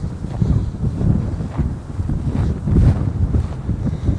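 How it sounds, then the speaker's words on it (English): Wind buffets a microphone on a steep mountain slope, a steady loud rumble with gusts swelling and easing throughout, no voices. "Wind is blowing."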